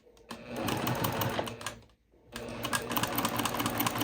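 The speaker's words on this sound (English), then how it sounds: "Sew a few stitches and then hold 1 piece in each hand. Sew that curved seam." A sewing machine runs close by, stitching a curved quilt seam in rapid bursts, then pauses briefly and starts stitching again.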